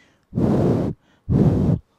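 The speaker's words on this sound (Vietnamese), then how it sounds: "chúng ta chỉ nghe được cái âm thanh thở đi ra chứ không bị áp lực lên trực tiếp micro" Two long, loud exhalations close beside a Fifine K658 dynamic USB microphone, each a breathy rush lasting about half a second, separated by a short pause.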